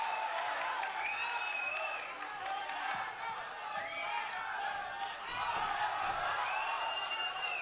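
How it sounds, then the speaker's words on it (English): A crowd at a fight in Macau roars and cheers in a dense, sustained wash of voices with rising and falling swells throughout. "The crowd's going wild."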